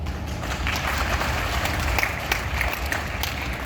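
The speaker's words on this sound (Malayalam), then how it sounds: "ഞാൻ കയ്യടി ചോദിച്ചത് തമ്പുരുവിന് വേണ്ടിയിട്ടാണ്" An audience applauds for a thamburu at a performance in Palakkad: a steady, dense wash of many hands clapping that holds at an even level throughout, with no voices standing out.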